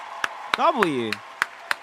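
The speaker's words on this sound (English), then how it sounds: "Everyone clap for him" A handful of sharp hand claps at a steady pace from people applauding a man during a religious debate review, with a loud voice shouting over them partway through.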